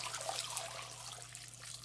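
Water pours steadily into an Instant Pot holding potatoes for broccoli soup, a soft continuous splashing trickle with a low hum beneath.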